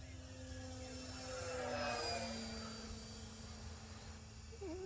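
An RC 3D biplane makes a slow, close flyby, its steady motor buzz swelling to a peak and then easing off as it passes, with a thin whining tone held throughout.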